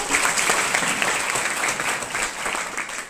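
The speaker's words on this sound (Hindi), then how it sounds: "जोरदार तालियां एक बार रखने के लिए" Loud, steady applause from a school audience welcoming guests at a student parliament session, dense clapping sustained throughout without a break.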